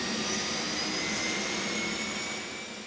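A helicopter turbine engine runs with a steady high-pitched whine and broadband roar, constant and fairly close, preparing for a surf rescue deployment.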